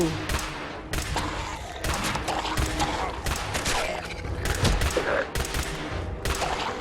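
Rapid hip-fired gunshots from a weapon in Fallout 4, a dense burst of loud, closely spaced shots across several seconds with heavy impact thumps mixed in.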